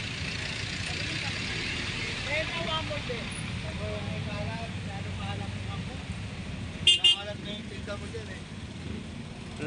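Congested street traffic beside a Philippine vegetable market, a constant engine rumble with a few short horn toots and one sharp, loud honk near the end, mixed with faint background voices.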